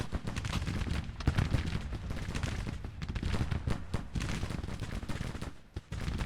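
Massed musket volleys from Civil War troops in Grand Tactician: The Civil War crackle and pop in dense, continuous fusillades. Distant booms rumble underneath throughout.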